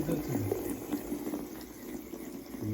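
Water runs from an open tap with weak pressure, giving a steady, moderately loud gushing and splashing hiss with no pauses for the whole stretch.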